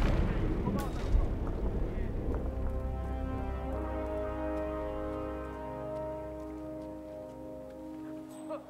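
A loud explosion in the stealth video game Hitman 2, with a deep rumbling boom and a sharp crack near the start, then a long decaying roar and ringing tones fading over several seconds.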